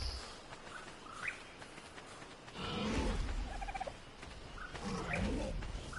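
Birds in the game Ark: Survival Evolved call out in gobbling, turkey-like bursts over an outdoor ambience, several calls of moderate loudness spread across the stretch with no talking.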